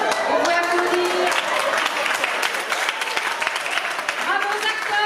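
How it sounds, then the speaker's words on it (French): An audience at a children's evangelism training session claps for the actors in a dense, lively round of applause, with voices and cheers running through it and tonal vocal sounds rising above the clapping. "Vous pouvez applaudir."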